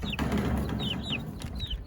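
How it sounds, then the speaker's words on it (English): Several short, high chirping clucks from chickens over a low rumbling background, close by. "You see the chickens?"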